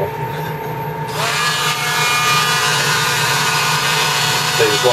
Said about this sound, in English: It's a high torque Dremel.